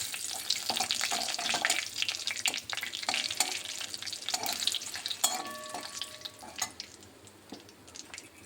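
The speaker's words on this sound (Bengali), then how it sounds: "ভালোভাবে গোটা গরম মশলাটাকেও ভালোভাবে ভেজে নিচ্ছি।" Whole garam masala and a dried red chili frying in hot oil, crackling and sizzling steadily with sharp pops and occasional stirring clatter, close and fairly loud, no talk.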